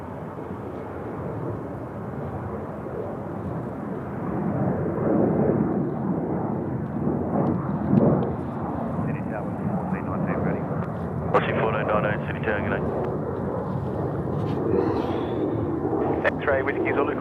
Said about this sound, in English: here we go for that Qantas aircraft in the background